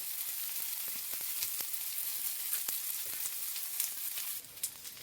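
Grated coconut roasts in a pan with a soft, steady crackling sizzle and scattered sharp ticks of stirring, fairly faint and continuous, easing slightly toward the end.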